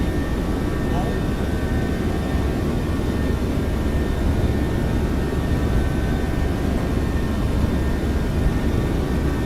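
A simulated Boeing 737-700 jet rolls for takeoff in X-Plane 12, its engines giving a loud, steady, broadband roar with a constant rumble under a faint high whine, and talk over the top.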